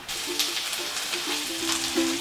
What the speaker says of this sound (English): Get that nice and hot, and then we're going to throw a little bit of our pork into that.